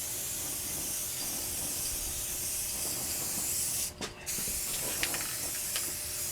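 A starter coat sprayed in a sawmill shop: a steady, loud, close hiss with a brief break near the middle, then a few faint ticks and clicks as the spray goes on.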